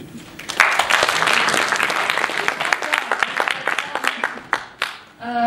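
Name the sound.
applause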